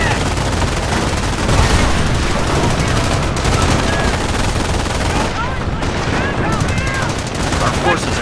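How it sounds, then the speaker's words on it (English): Dense, continuous gunfire and machine-gun bursts in the World War II strategy game Company of Heroes, during the Carentan counterattack in Normandy, loud and sustained throughout with scattered in-game voices. "Base is under enemy fire."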